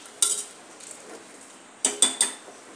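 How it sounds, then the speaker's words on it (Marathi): A metal spoon scrapes and clinks against a pan while green masala is stirred into rice, a few sharp knocks over a faint sizzle, with no talking. "आता हे चांगले परतून घेऊ"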